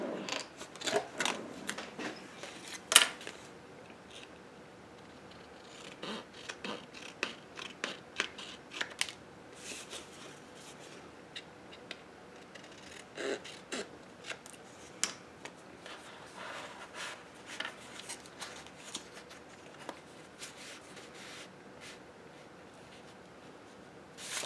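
Scissors snip paper in a long series of crisp, irregular cuts, trimming a paper pocket in a craft journal, close and fairly quiet with brief pauses between cuts.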